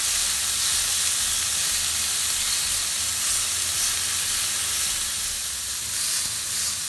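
Beef for tacos sizzles on a grill with a steady, bright, hissing crackle that holds without pause and eases slightly toward the end, close and fairly loud.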